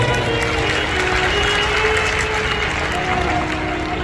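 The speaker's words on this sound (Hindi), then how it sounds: "एक बार जोरदार ताली बजाएं।" Audience applause at a live Shiva Mahapuran religious discourse in Meerut, a dense, steady wash of clapping from a large crowd, loud and continuous throughout.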